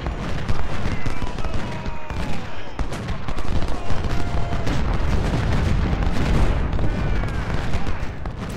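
Cannon and musket fire from the Civil War strategy game Ultimate General: Civil War, with dense continuous volleys and booming shots layered throughout, loud and steady with no pauses.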